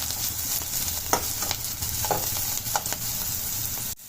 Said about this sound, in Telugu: ఇప్పుడు ఇదంతా ఫ్రై అయ్యే విధంగా కలుపుకోవాలి. ఇవన్నీ మనం హై ఫ్లేమ్ మీదనే కలుపుకోవాలి.